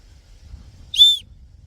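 A single short, shrill blast from a survival kit whistle, close and piercing, over faint low background noise.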